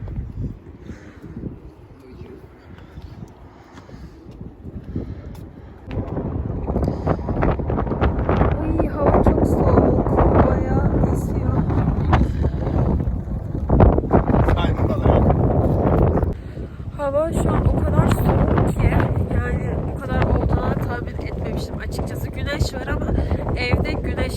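Strong wind blows across an outdoor visitor site in Antalya, Turkey, roaring and buffeting the microphone in a loud continuous rush that swells after a calmer start, with people's voices partly buried beneath it.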